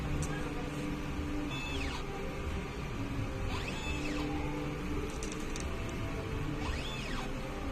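An inkjet printer runs its head-cleaning cycle, giving a constant loud mechanical whir with three rising and falling motor sweeps spaced a few seconds apart.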